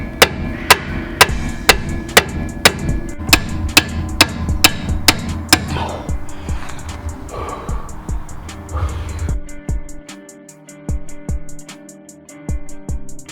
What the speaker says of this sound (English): So we've got the spindle pin out after lots of hammering.